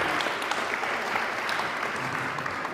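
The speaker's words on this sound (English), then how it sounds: "A big applause, please." A conference audience gives steady, dense applause that fills the room at an even level throughout, with no voices standing out.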